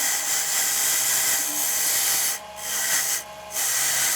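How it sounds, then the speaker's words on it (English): A jewelry bead is held against a spinning bristle polishing wheel, making a steady, close, loud hissing whir that dips briefly twice. "I hold it right up against the wheel, and I make sure those little bristles like sweep into all the nooks and crannies"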